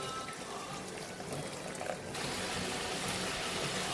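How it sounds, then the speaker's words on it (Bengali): Hot water is poured into a yogurt fish curry in a kadai: a quiet sizzle gives way halfway through to a steady, broad rushing pour that continues to the end, heard close with no talking. "দিয়ে দিচ্ছি গরম জল"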